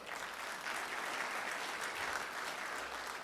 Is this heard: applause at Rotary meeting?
yes